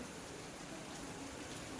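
Rain falls outside during a downpour in Hyderabad, a steady, faint, even hiss of drops with no break across the whole stretch.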